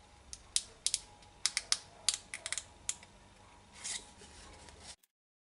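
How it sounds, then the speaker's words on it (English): Scissors cutting glassine paper envelope pieces: a series of quiet, close, crisp snips in an irregular rhythm, a brief rustle of paper near the end, then silence, with no talk. "I'm actually going to do this with scissors because I find it a little easier"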